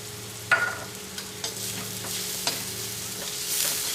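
Onions sautéing in a pan with turmeric powder just added for a Kerala chicken varattiyathu, a soft steady sizzle with a few sharp stirring scrapes and clinks, close and alone.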